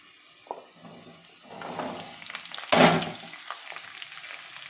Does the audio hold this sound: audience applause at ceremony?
no